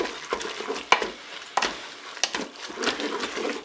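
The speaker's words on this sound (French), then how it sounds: "Je mélange." Spaghetti with tofu, mushrooms and fromage blanc being stirred in a Cookeo pot, giving soft scraping and wet sloshing with a few sharper knocks of the utensil against the pot, close up and without talk.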